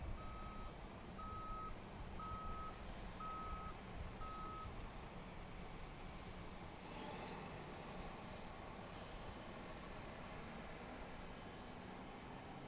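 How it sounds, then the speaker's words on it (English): An airport fuel truck backing up gives a few evenly spaced reversing beeps early on, faint and distant over a steady outdoor rumble of engines and wind, then the beeps stop while the background continues. "That beeping you hear is a fuel truck backing up in front of us."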